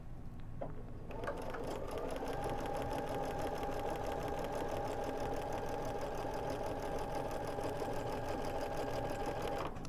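A sewing machine runs steadily while stitching binding onto a quilt, a continuous whirring motor with rapid needle clatter that starts after a brief quiet moment and holds close and loud to the end.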